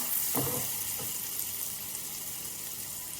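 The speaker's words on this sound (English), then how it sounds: "I want the butter to melt down." Butter melting and sizzling in a pan for a cauliflower cheese sauce, a steady close frying hiss with a couple of brief soft knocks near the start, no talking.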